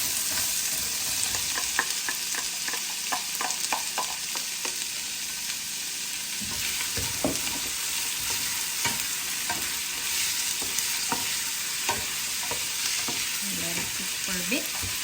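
Onion frying in a pan for pork menudillo gives a steady, close sizzle throughout, with stirring scrapes and clacks scattered over it and no talking.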